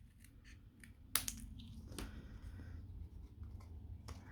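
Scissors cutting through two pieces of card held together for a birdhouse card, giving a few quiet, close snips and crisp crunches with light handling noise, no talking.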